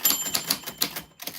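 Typewriter keys striking in quick irregular bursts with a bright bell ding, close and fairly loud, no talk.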